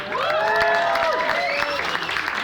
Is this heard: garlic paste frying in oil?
no